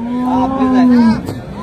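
A single long, close cow moo at a cattle market in Sangola, steady and full-throated, lasting just over a second before trailing off.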